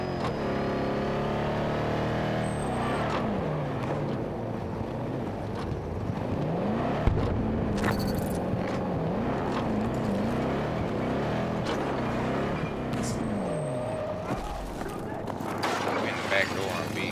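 A truck engine droning steadily while driving in Battlefield 2042, its pitch rising and falling with gear changes and throttle, close and continuous, with gameplay sounds and people talking over it.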